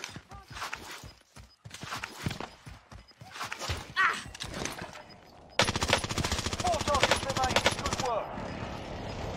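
Warzone video game gunfire, rapid automatic bursts and single shots at close range, dense and loud with a steady stream of fire in the second half, mixed with in-game voices and commentary.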